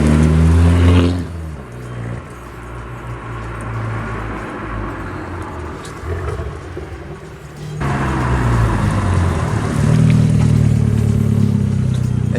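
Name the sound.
Abarth car engine roaring in a tunnel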